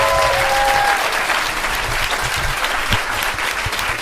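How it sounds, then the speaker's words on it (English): An audience applauds teachers at a UK family gathering: sustained, even clapping from a large crowd, moderately loud and continuous for the whole stretch, with a faint tonal trace at the start. "let's give us a huge round of applause to our wonderful teachers"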